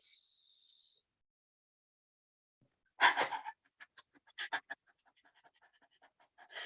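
A person in a laughter yoga session imitates a dog with panting breaths, a burst of loud, breathy exhaling followed by quick, short huffs that fade into sparse, softer puffs.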